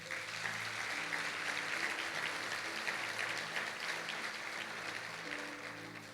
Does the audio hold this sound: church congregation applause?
yes